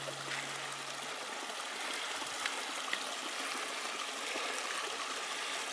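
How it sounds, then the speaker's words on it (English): Olchon Brook runs over stones in a Black Mountains valley, a steady, close rushing and trickling of water that continues evenly with no voices. "Oh, listen to that water, isn't it beautiful?"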